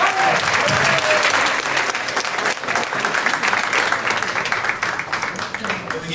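An audience at a poetry night applauds a poet with full, steady clapping from a crowd, a brief voice rising above the noise near the start.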